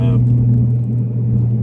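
2016 Ford Mustang S550 3.7 V6 with Jones 10-inch resonators, catless pipes, no mufflers and quad tips, idling with a deep steady droning hum; a voice speaks over it at the very start.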